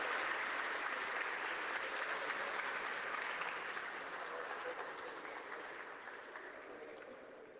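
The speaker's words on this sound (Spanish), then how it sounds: "Un aplauso." Audience applause at a formal event, a steady wash of clapping from many hands that gradually fades slightly over several seconds; moderately distant and even.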